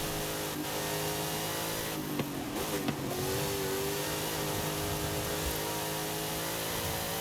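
Drift car engine in Forza Horizon 5, a sustained loud droning hum with a brief burst of revving partway through, steady and close with no talk.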